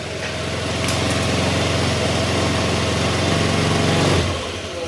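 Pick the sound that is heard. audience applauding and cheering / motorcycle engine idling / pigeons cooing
motorcycle engine idling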